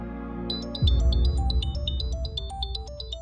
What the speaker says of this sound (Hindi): मीठी का फोन।